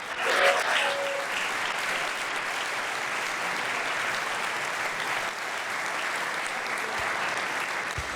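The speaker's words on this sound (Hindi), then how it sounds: "जोरदार तालियां यीशु नासरी के जलाल के लिए" Congregation applause during a church sermon, many hands clapping in a steady, even roar that carries on for about eight seconds, with a brief voice at the start.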